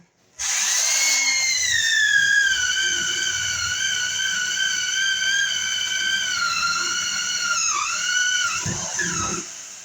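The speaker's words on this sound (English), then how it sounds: "I'm going to drill over this way." A loud, high-pitched power drill whines steadily for several seconds while drilling a hole in a wall, its pitch dipping slightly near the end before it stops.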